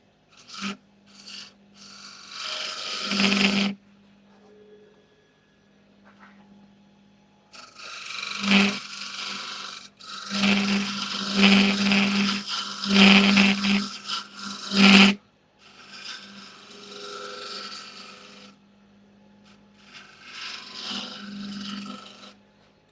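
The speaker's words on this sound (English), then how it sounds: "All I'm doing right now is basically using the bowl gouge as a scraper." A bowl gouge used as a scraper rasps against spinning wood on a lathe in bursts of a few seconds, with a steady motor hum beneath and quiet gaps between cuts, close and fairly loud.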